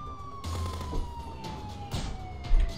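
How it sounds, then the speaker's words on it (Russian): A police siren in the video game Contraband Police wails in a long, slowly falling tone over the game's engine and background noise, with a few thuds. "я хотел выключить сирену, она меня бесит"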